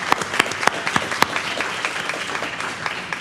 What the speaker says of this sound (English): So let's give John a round of applause.